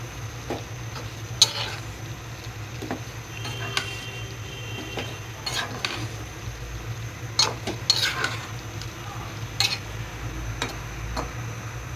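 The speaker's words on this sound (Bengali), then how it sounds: "ভালো করে নেড়ে চেড়ে শুটকি এবং পেঁয়াজ, রসুন সবজির সাথে মিশিয়ে দিচ্ছি।" Dried fish, onion, garlic and vegetables cook in a pan without oil while being stirred. A faint, low sizzle runs beneath scattered scraping clicks of a spoon against the pan, quiet and close with no voices.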